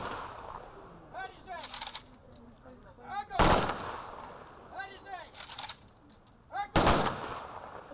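Two loud volleys of a ceremonial gun salute ring out a few seconds apart, each sharp crack followed by echoes, with birds chirping and murmuring voices between.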